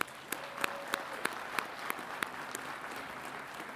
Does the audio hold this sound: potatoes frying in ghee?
no